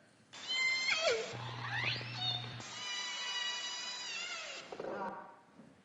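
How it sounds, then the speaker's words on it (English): Orcas vocalizing underwater off the Vancouver coast, a series of rising and falling whistles and squealing pulsed calls, clear and fairly close, overlapping one another. "This is the sound of orcas off the coast of Vancouver."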